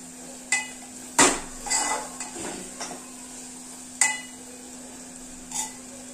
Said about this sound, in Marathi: टोमॅटो आणि कांदा छान सॉफ्ट झालेला आहे, मसाले छान परतले जात आहेत तेलामध्ये